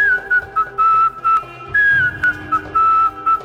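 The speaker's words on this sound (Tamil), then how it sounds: "ஹீரோ வந்துட்டு விசில் அடிச்சு அந்த நாயை கூப்பிடுவாரு" A man whistles to call a dog in an Indian movie scene: a shrill, melodic whistle in quick, repeated bursts with short gaps, clear and close, with no talk.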